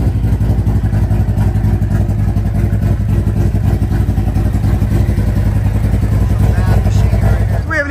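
Custom motorcycle at an Arizona bike rally, its engine running steadily and loud throughout with a constant low rumble, while people talk nearby over the noise.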